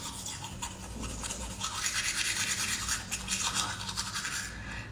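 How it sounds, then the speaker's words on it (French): Toothbrush scrubbing teeth to clear away activated charcoal whitening residue, a steady close bristly rasp with rhythmic strokes continuing throughout, alone without talk. "Tu dois te laver les dents."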